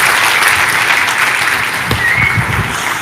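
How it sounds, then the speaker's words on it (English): An audience at an awards ceremony claps steadily for about three seconds, a broad wash of many hands in an indoor hall, with a few low thumps and faint voices beneath. "Come on, give Esteban a round of applause, guys."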